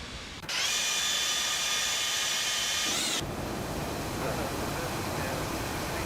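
Jet engines of a Felis 747-200 in the X-Plane 12 flight simulator give a loud, steady high whine over a broad roar, then the whine cuts off and a softer rumble carries on.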